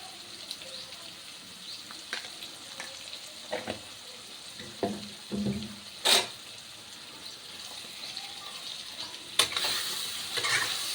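Egg frying with potatoes, turmeric and dried red chili in a pan for a Bengali egg-potato chochori, a soft continuous sizzle with occasional spoon scrapes and clacks, close up and without talk.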